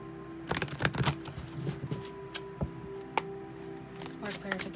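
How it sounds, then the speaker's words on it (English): Tarot cards being shuffled by hand in repeated quick riffling bursts of papery flutter and soft taps, close and moderately loud, with a faint steady hum beneath. "I'm going to shuffle one more time."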